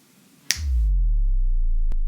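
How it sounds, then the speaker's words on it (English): A snapped-finger hit layered with a deep sub-bass drum sample from a trap-style intro kit, one sharp crack followed by a long booming low tone that sustains to the end, with a faint tick near the close. "some intro drums, which have a hi-hat sample, a clap sample, a sub sample, and also a reversed open hi-hat sample"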